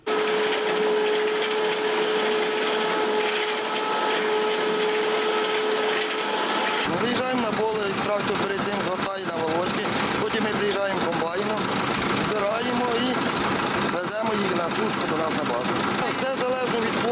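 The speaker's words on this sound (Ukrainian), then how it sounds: "за кермом трактора з гарбузовим комбайном, великими голками наколює овочі і скидає в комбайн на подальшу обробку" A tractor pulling a pumpkin harvester combine works a field, spiking pumpkins on large needles and dropping them into the machine; steady loud mechanical rumble and clatter run throughout, with a voice talking over it.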